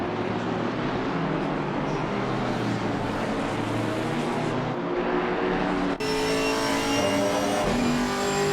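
A GT race car engine roars continuously in the Assetto Corsa Competizione sim during a multiclass championship round at Silverstone, with an AMG nearby. The loud sustained engine note shifts as the view cuts partway through.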